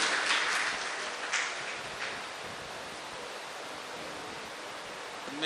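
Audience applause welcoming a member of parliament as guest speaker at a university poetry gathering, a dense steady wash of clapping from a large crowd that swells early and then holds evenly throughout.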